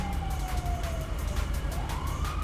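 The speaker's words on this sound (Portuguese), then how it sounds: "Nossa, tô ouvindo o barulho da sirene." A police siren from GTA V wails continuously, its pitch sweeping down and then climbing back up, loud and close over a low rumbling engine drone.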